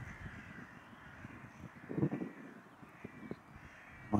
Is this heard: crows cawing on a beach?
yes